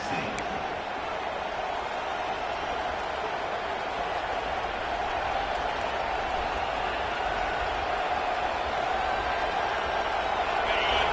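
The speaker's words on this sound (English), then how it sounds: "The roar of the crowd trying to fuel this defense to keep them pinned in their own end" A stadium crowd at a Tennessee football game roars steadily as the home defense holds, a broad continuous wash of cheering with a play-by-play announcer talking over it.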